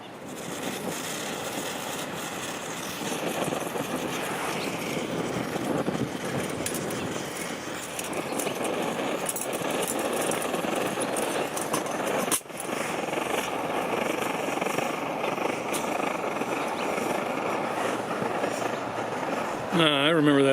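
A 50-year-old Svea 123 camping stove burner roars steadily and loudly during preheat for a long stretch, a continuous rushing hiss with some gusty wind noise.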